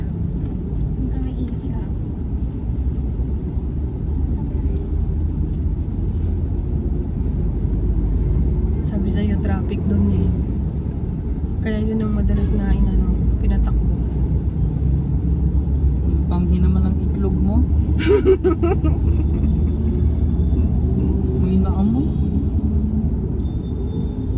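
Heavy road traffic under the Skyway in Metro Manila heading toward Cavite: a constant loud low rumble of engines and passing vehicles, with people talking intermittently over it throughout.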